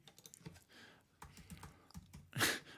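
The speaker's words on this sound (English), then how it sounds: "That's me typing away" Typing on a computer keyboard: a short, quiet flurry of irregular clicks and key taps, close to the microphone, finishing with one sharper, louder keystroke, no talk.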